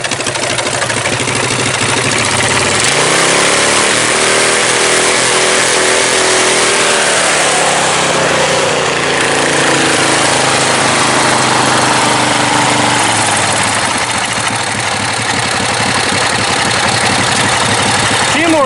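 A heavily modified propane-powered 1988 Murray race mower runs close and loud, its engine droning and revving with a rough, uneven rhythm and shifting pitch throughout.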